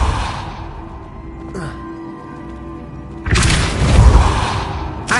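A Depulso spell is cast in Hogwarts Legacy: a sudden loud burst with a deep low-end boom and bright crackling wash, following a quieter stretch of faint tones and a brief whoosh.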